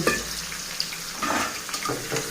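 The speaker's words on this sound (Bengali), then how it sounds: "আমি এখন পেঁপে ভেজে নিচ্ছি।" Chunks of papaya fry in a pan with a continuous close hiss and sizzle, wet bubbling crackles rising and falling, and no voices.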